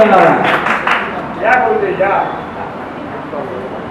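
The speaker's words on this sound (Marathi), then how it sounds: "दादासाठी जोरदार टाळ्या होऊन जाऊया" Audience applause for a poet at a Marathi poetry book launch, a burst of clapping with a few sharp claps rising and fading under a speaking voice.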